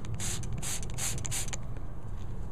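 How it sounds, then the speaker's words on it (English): A trigger bottle of glass cleaner is sprayed onto a paper towel for cleaning a car windshield, giving four quick hissing squirts in a steady rhythm, close and crisp, over a low background hum. "just spray the glass cleaner on your paper towel"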